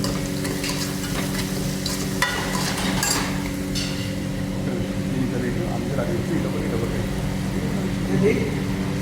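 A spoon stirring chicken curry in a hot pan after salt is added, with scraping and clinking over a constant sizzle while someone talks.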